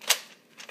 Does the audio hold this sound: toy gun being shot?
yes